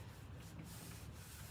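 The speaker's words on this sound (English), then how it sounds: "this Scotch-Brite just knocks that really slick polyurethane shine down" A Scotch-Brite scrubby pad scuffs a slick polyurethane finish with a steady, close, soft rubbing hiss that holds at an even level with no breaks, and no one talks over it.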